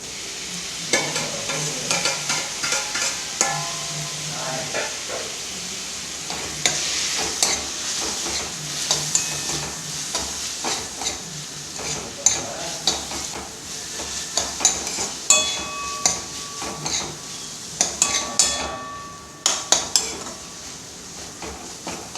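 Onions and tomatoes stir-fried in a pan for aloo methi sizzle continuously, with a spatula scraping and clinking against the pan in irregular bursts, close and clear.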